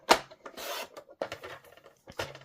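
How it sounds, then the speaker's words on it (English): Cardstock being trimmed for a card: close, dry scraping and slicing strokes in short bursts with brief pauses, no talk. "I'm going to go ahead and trim off a little piece"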